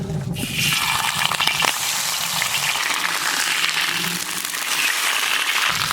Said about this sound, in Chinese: 锅里倒点油，把鱼头煎一下。